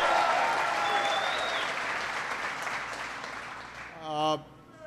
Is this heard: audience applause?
yes